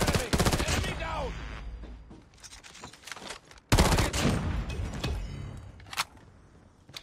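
Bursts of gunfire from the Swordfish burst rifle, fired without a suppressor in a first-person shooter match on the Nuketown map, loud and close, with a rapid volley at the start and another sharp burst midway.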